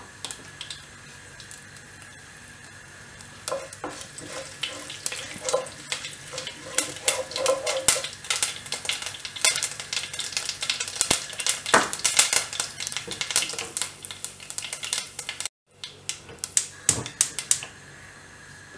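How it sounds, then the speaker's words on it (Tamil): Cumin, mustard and fenugreek seeds crackling in hot oil, with dense rapid pops building up after a quiet start and running on close and steady before a brief dropout. "எண்ணெய் காஞ்ச உடனே சீரகம் கடுகு வெந்தயம் இதை ஆட் பண்ணிடலாம்"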